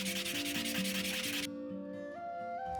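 Walnut wood being sanded at an angle by hand, a steady close rasping rub for about a second and a half, then quieter with faint tones lingering.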